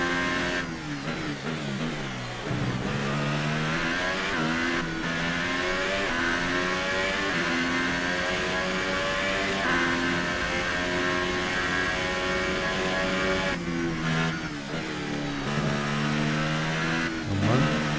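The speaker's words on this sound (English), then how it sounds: "And I'm thinking not a lot of you would like just listening to engine noises" Car engine in a racing video game revving hard and holding high, with steady harmonic whine rising and dipping through gear shifts and braking over eighteen seconds, loud and continuous with no talk.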